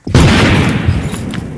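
A firecracker explodes with a single loud, near boom that rings out and fades slowly.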